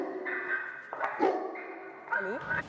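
A dog in pain whimpers and whines in drawn-out, wavering high cries, close by, with a few brief yelps and no other sounds around.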